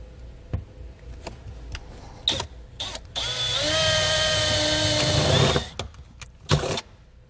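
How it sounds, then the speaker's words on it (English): A power drill fitted with a 37/64 bit cuts into a Jeep's steel frame in a loud whirring burst of about two seconds, with a rising motor whine, surrounded by scattered clicks and knocks. "We're going to be using a 37/64 drill bit to match the size of our grommet here."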